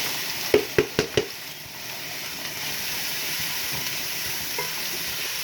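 Chopped onion goes into a pan with garlic for a ground beef stew, starting with a few quick sharp clatters and then settling into a steady, moderate sizzle.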